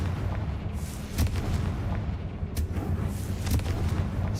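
Confringo fire spell cast in the video game Hogwarts Legacy, heard as a dense rumbling blast with several sharp booming bursts over a steady low roar.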